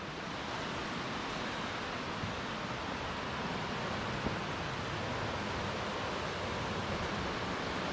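A river in a rugged, rocky Scottish gorge at the Rocks of Solitude rushes over stones, producing a constant broadband roar that stays loud and unbroken throughout.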